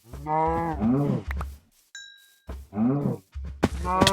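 Minecraft cows give several low, drawn-out moos close by, with a short metallic ding in the gap between them and a few soft thuds near the end.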